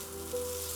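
Butter sizzles in a hot pan, a soft, steady hiss that swells slightly partway through the short moment and then holds, close and quiet, with no voices.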